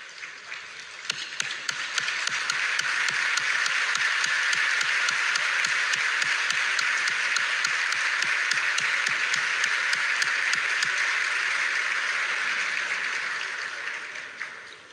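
A large audience rises for a standing ovation at a Haitian political address, with dense, steady clapping building quickly and holding loud and even for about twelve seconds before tapering off.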